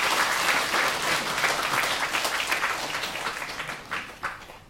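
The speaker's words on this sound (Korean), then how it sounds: "새해를 허락하신 하나님께 감사의 박수 드리겠습니다." Applause from a church congregation just after midnight at a New Year's Eve service, a dense, sustained wash of clapping that continues throughout and slowly tapers toward the end.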